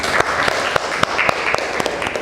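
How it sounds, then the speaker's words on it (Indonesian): Audience clapping at an Indonesian classroom teaching session, a short steady patter of hands with sharp individual claps standing out, fairly close and with little talk over it. "terima kasih, tepuk tangan dulu."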